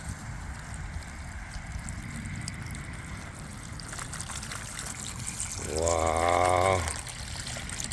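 Running water rinses grit off freshly tumbled gemstones, a steady pouring trickle that swells louder and fuller for about a second near the end before easing back to a soft wash; a brief exclamation is heard.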